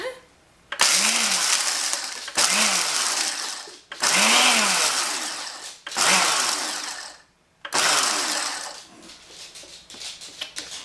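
A blender grinding dry banana peel whirs loudly in several bursts, each starting with a rising whine, separated by brief pauses; it ends in a longer, rougher grinding run.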